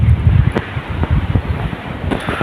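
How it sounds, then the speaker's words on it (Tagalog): Strong gusting wind buffeting a handheld microphone outdoors as rain threatens, with dense low rumbling bursts and rustle, loud and continuous with brief swells. "Grabe ang hangin guys oh."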